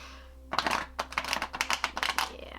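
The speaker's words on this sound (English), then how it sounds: "So let's give it a shuffle." A tarot card deck being shuffled close up, a rapid series of crisp papery riffles and flicks that starts after a brief quiet pause and keeps going in uneven bursts, with no talking.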